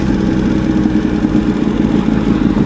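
Motorcycle engine droning steadily while riding on the road, a loud, constant low rumble with rapid pulsing and no pauses, close up.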